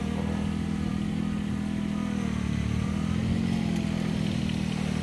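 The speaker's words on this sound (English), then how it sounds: "It's got a 3-cylinder Mitsubishi diesel engine in it." A small 3-cylinder Mitsubishi diesel engine in a tiny 25 hp tractor runs steadily at a low, chugging idle, close and continuous with a rattly mechanical drone throughout.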